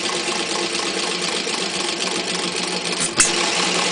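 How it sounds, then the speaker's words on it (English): A Tochtrop Economy engine runs steadily on its governor throttle, a continuous, even mechanical chatter close by with a brief sharp knock near the end. "All in all, a nice little engine."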